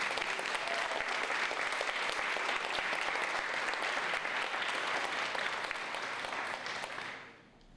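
Sustained audience applause welcoming a speaker to the podium at a college business institute anniversary celebration, steady and dense clapping from a large crowd that fades out at the end.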